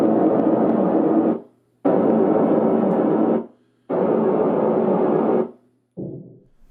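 Calibration test tones from an Onkyo LS7200/SBT-A500 soundbar system: three loud bursts of hissing noise, each about a second and a half long with short silent gaps, then a fainter, shorter burst.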